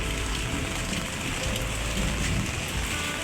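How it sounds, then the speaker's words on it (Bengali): Steady heavy rain pours outside near a garden with mango and guava trees, a dense even hiss of drops on wet surfaces with no pauses and no voices. "দেখতে পাচ্ছেন বাইরে অনেক বৃষ্টি হচ্ছে"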